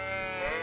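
A sheep in the video game Kingdom Come: Deliverance gives a single short, close, wavering bleat, clear and alone.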